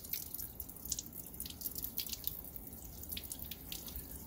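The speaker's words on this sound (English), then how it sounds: "We're going to go ahead and rinse it off with a little bit of tap water just to remove any residual solvent." Tap water runs and splashes while rinsing nylon thread on a test tube during a polymer synthesis chemistry lab: a steady, close hiss of flowing water with irregular dripping spatters.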